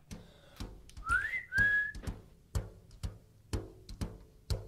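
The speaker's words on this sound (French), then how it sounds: "Siffle" A few short whistled notes rising and sliding in pitch, heard near and clear over a backdrop of regular clicking or tapping sounds.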